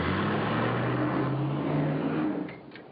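A car is driven in a video game, its engine roaring loud and steady with a rising pitch, then dropping away sharply near the end.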